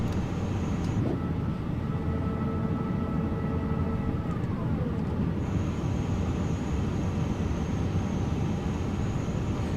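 Steady engine roar from an Airbus A350-900ULR on landing approach in Microsoft Flight Simulator 2024 persists as a dense continuous drone, with a faint tone and brief clicks layered on top.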